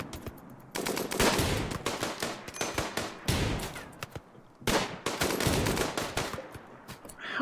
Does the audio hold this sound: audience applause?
no